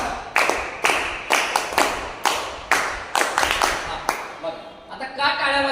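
Audience members clap in sharp, evenly spaced single claps, about a dozen strong hits close and loud, then a softer scattered patter at the end.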